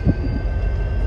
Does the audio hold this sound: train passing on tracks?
yes